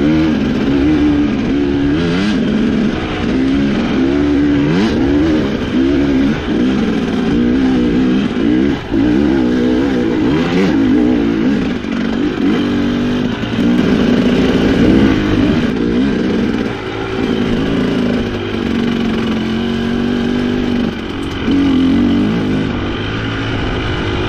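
A dirt motorcycle climbing an uphill single-track trail, its engine loud and close throughout, revving and dropping in repeated surges as the rider works the throttle.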